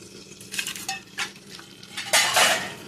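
Chillies frying in a little oil on a tawa, heard as a close, steady crackling sizzle with several short metallic scrapes and clinks of a utensil, building to a louder burst of sizzle near the end.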